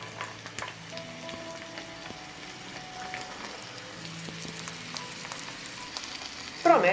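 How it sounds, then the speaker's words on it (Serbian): Onion and chopped celery fry in a pan with a soft, continuous sizzle and light stirring noises. Faint tonal sounds sit in the background, and a louder burst comes at the very end. "Dok se luk prži,"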